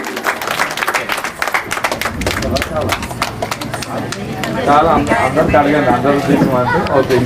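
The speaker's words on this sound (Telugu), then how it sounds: "ఒక్కసారి చప్పట్లు కొట్టండి." Crowd clapping for rangoli contest winners at a ward event, a dense patter of applause mixed with voices, growing louder and fuller in the last few seconds, with talk over it.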